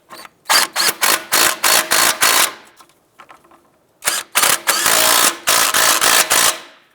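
A hand ratchet clicks in fast, loud bursts while snugging down the nuts on a CV axle of a 2001–2005 Honda Civic, with two runs of rapid clicking separated by a short pause.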